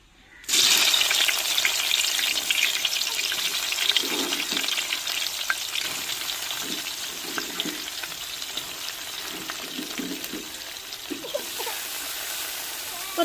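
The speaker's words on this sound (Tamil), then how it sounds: "நல்லா எண்ணெயில் நல்லா வெங்காயமும் முட்டைக்கோசும் வதங்கி வரட்டும்" Chopped cabbage and onion frying in oil with golden-browned chana dal, a loud continuous sizzle that starts abruptly and holds for the whole stretch, with occasional soft stirring scrapes beneath.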